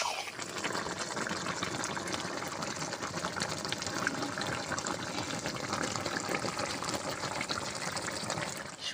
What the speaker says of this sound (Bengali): আমি সামান্য একটু জল দেব।